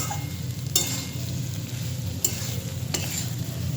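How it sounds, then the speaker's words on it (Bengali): Poppy seed paste frying in a pan with drumsticks and potato, giving a steady close sizzle with a few sharp scraping stir strokes from a utensil. "পোস্তটাকে ডাঁটা এবং আলুর সঙ্গে কষিয়ে নিতে হবে একটু ভাজা ভাজা করে নিতে হবে"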